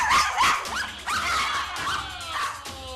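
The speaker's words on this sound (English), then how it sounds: "She has an attachment issue that if she can't get to you, she's gonna bark." Several small Chihuahuas bark, yip and whimper close by, loud and overlapping in rapid bursts, the high-pitched calls continuing without pause.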